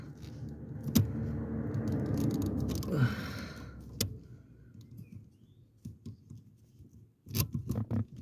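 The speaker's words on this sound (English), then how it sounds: "So we have to cut off the cable tie here." A cable tie being cut during a clutch master cylinder installation on a Nissan NV200, with sharp snipping clicks and tool rattles close up, sparse and quiet.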